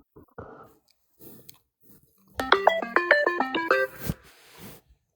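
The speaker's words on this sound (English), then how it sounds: "there goes your phone" A mobile phone rings with a bright, stepping melodic ringtone lasting just over a second, set among faint chewing and rustling noises nearby.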